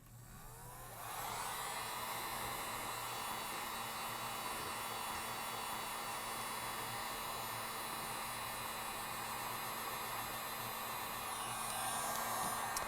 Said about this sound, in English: So I'm going to take and again give my glass a blast of heat.